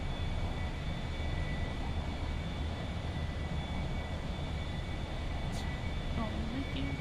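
Light aircraft engine droning steadily during a low pass over trees at about 170 knots, the throttle nudged up; a continuous loud cockpit roar fills the whole stretch, with faint talk underneath.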